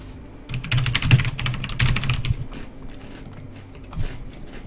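Rapid typing on a computer keyboard, a close burst of clicking keystrokes that thins out into sparser taps.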